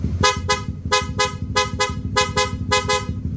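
Loud, close blasts from a German-made snail horn on a Honda CB150X motorcycle, sounded in quick pairs of sharp honks repeated several times over a low idling rumble.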